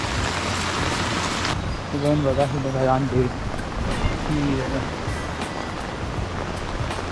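Floodwater rushes through a river swollen by heavy monsoon rain in the Konkan, a steady, dense wash of water and rain that runs without a break, while someone talks over it.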